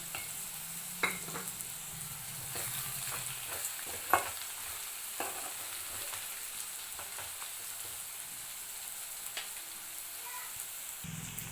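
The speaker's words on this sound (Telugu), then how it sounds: "ముందుగా వేయించి పెట్టుకున్న రొయ్యల్ని కూడా దీంట్లో యాడ్ చేయాలి" Prawns fry and sizzle with onions in a pan for a curry, with a steady hiss of hot oil and occasional clacks of stirring from a utensil on the pan.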